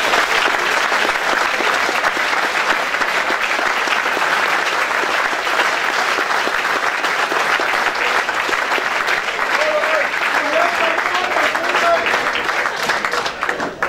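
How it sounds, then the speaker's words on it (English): Dense, sustained applause from a crowd at a football club's Player of the Year awards night, loud and continuous throughout with faint voices mixed in. "Give yourselves a big round of applause."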